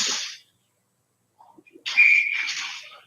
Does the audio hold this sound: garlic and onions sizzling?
no